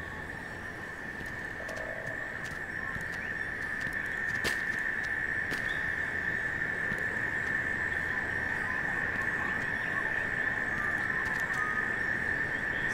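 A cicada in the wetlands of the game Paperbark keeps up a steady, continuous high-pitched drone, loud and unbroken throughout, with a few faint clicks over it.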